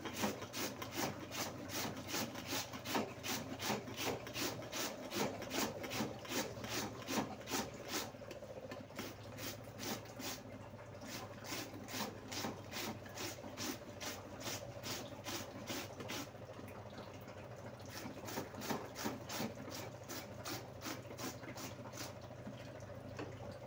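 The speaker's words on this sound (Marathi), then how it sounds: "माझ्याकडे मस्त जाड किसणी आहे, त्याच्याने बटाटा किसून घेते" Potatoes scraped across a thick grater in a steady, fast rhythmic rasp, repeated strokes continuing evenly throughout at close range and low level, with no talking.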